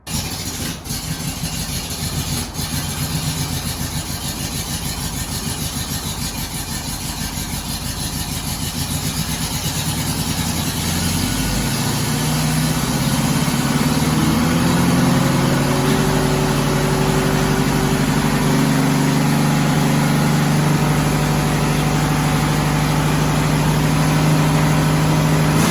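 A 1972 Volkswagen Westfalia engine, unrun for 14 years, cranks with a rough churning, catches, and settles into a loud steady idle that continues for a long stretch, heard up close with no talking.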